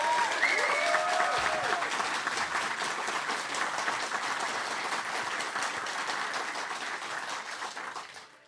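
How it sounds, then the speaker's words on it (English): A large crowd at a gaming fan festival applauds steadily and loudly for about eight seconds, the clapping fading out at the end. "join me in a round of applause for everyone that has helped make this"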